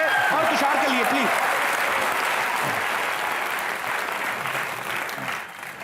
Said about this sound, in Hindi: जोरदार तालियां जीतू जी के लिए और तुषार के लिए प्लीज